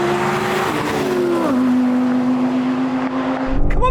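A BMW M3 launches off the line in a drag race against an Audi R8 GT, with loud, continuous engine roar, a shifting engine tone and a brief change near the end.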